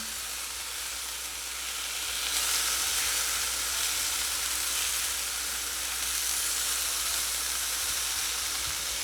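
Homemade breakfast sausages fry in a pan with a loud, steady sizzle and crackle that swells slightly partway through, close and continuous with no voices.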